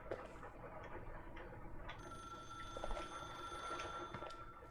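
A telephone rings in repeated bursts over a low ambient hum in the video game The Suicide of Rachel Foster, with no one speaking.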